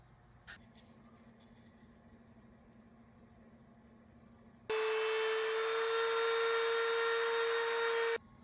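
A Dremel rotary tool whines steadily and loudly while carving a wooden glide bait, starting abruptly after a quiet stretch with a faint tap and running continuously for several seconds before cutting off.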